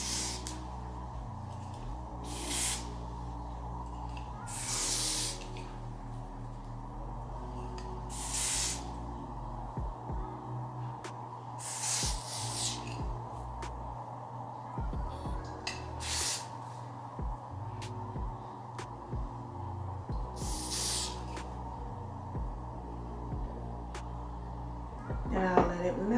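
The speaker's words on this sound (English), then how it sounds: "I'm going to spray some spray." Water-resistant spray is applied to a wig in short bursts, about eight separate close hisses spaced a few seconds apart, over a steady low background hum.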